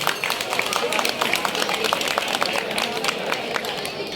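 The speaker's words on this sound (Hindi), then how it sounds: "जोरदार तालियां एक बार" An audience claps for a singer at a stage play performance, dense rapid applause continuing steadily throughout with crowd murmur beneath.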